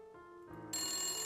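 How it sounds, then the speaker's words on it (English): A telephone in an old Victorian mansion rings, a clear electronic tone that builds over about a second and then sounds at full strength, with no one speaking. "The phone is ringing."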